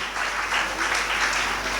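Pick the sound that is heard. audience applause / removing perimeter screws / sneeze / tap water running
audience applause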